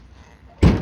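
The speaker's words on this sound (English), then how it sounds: "It's not a good old truck unless it's got a squeaky door." Door of a 2001 Dodge Ram pickup truck, said to squeak, gives one loud, close burst of sound after a stretch of quiet low rumble.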